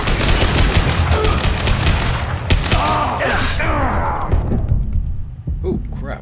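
Rifle gunfire in Mass Effect Legendary Edition, rapid bursts of shots and impacts crackling through a firefight, loud and close, with game voices shouting over the shooting.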